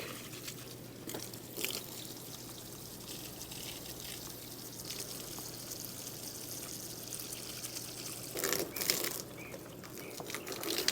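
Liquid organic fertilizer streams steadily from a pumped hose onto garden plants, a soft continuous pouring and splashing wash with a low hum, swelling louder near the end.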